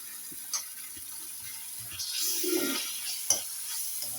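Ginger garlic paste stirred in a hot frying pan, a soft sizzle under scattered scraping and clinking of a spoon against the pan, close and moderately quiet, with no talking.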